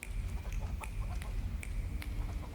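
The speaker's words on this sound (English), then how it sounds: "Chickens!" Chickens cluck in short, repeated sharp bursts within the video game The Thaumaturge, scattered pecking-like notes over a low rumbling backdrop, with no talking.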